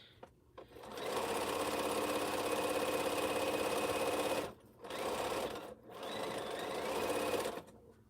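A sewing machine stitches T-shirt quilt squares in long steady whirring runs, stopping briefly twice between seams before starting again, close and even in tone.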